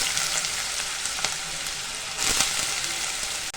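Potato pieces frying in hot ghee with green chillies for sabudana khichdi, a steady dense sizzle close by with a few faint clinks of a spoon, continuous throughout.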